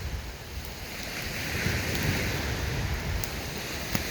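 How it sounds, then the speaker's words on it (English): Strong waves wash steadily onto a lake shore in the evening, a continuous rushing surge with wind buffeting the microphone and no talking. "Waves are nice and strong tonight."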